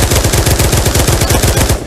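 Rapid automatic gunfire from a submachine gun fired one-handed in the Pavlov VR shooting game, a loud continuous burst of closely spaced shots running the full length without pause.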